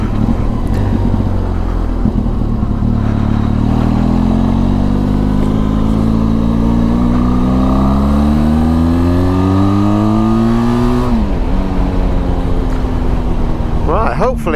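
A Benelli TRK 502 X adventure motorcycle engine revs up steadily, pitch climbing over several seconds before dropping off, loud and close throughout with a brief clatter at the end.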